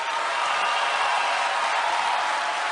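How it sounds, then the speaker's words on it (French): A large crowd applauds and cheers at the inauguration of a financial centre in Kinshasa for the President of the Republic, a steady, dense roar of clapping that holds evenly throughout. "nous prions l'assistance de féliciter le président de la République par des ovations et des applaudissements très nourris"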